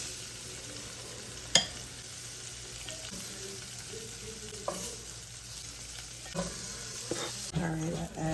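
Onion sizzling in butter in a pan, a faint, steady frying hiss with occasional utensil knocks and scrapes, one sharp clank early on.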